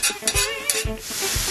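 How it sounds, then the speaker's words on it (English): Ground beef and onions stirred together in a hot pan, with a steady close sizzle broken by several scraping spoon strokes; no talking. "I went ahead and put in the onions into the ground beef mixture once it had started to brown a little bit."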